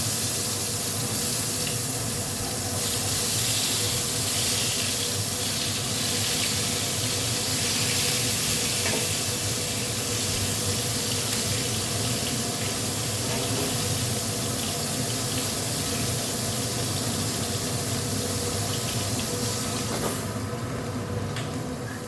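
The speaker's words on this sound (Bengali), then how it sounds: "আর একবার করে করে যা বৃষ্টির ছাট আসছে এইদিকে" Monsoon rain gusting and spraying in on a Bengali home during a storm, a steady broadband wash of water noise that holds near and loud throughout, with no talking.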